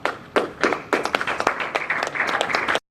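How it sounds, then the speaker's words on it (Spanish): A church congregation applauds in a short burst of close, crisp handclaps that starts sparse, quickly thickens and then cuts off abruptly. "Un aplauso al Señor, hermanos."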